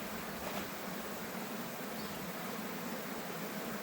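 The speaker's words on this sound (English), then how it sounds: "These are all the new bees." Newly emerged honey bees crowd together in a swarm being captured, giving off a dense, continuous buzzing hum that stays even and close with no pauses.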